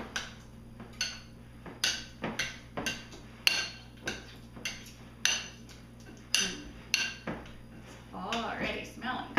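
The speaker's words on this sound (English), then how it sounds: "Just going to mix it around a little bit here." Tomato bake ingredients with lemon juice and dill are mixed in a bowl, a utensil striking the sides in rapid repeated clinks with a quieter scrape near the end.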